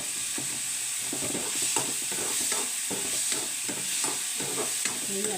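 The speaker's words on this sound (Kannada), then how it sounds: "ತುಂಬ ಚೆನ್ನಾಗಿ ಫ್ರೈ ಆಗಲಿ." Tomato masala fries in plenty of oil, a steady close sizzle broken by repeated scraping stir strokes of a spoon against the pan.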